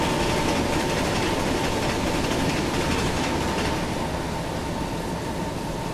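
In Train Simulator, the Bhavnagar–Kakinada Superfast Express of Indian Railways rumbles steadily through a crossing, a loud continuous roll of wheels and engine with no voices.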